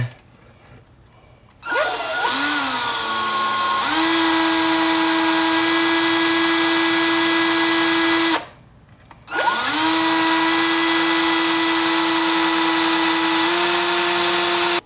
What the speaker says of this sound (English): I need to drill this out and see if I can't get a grip on it